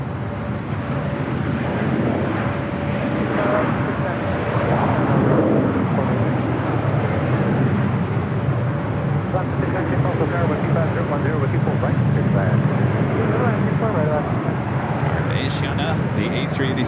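A Breeze Airways Airbus A220-300 rolls down runway 24 left at LAX with a steady, broad engine roar and wind rush held at even loudness throughout, with a voice talking over it.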